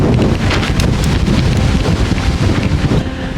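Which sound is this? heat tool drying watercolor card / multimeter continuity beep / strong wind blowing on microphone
strong wind blowing on microphone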